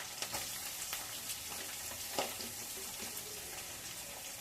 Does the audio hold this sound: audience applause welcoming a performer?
no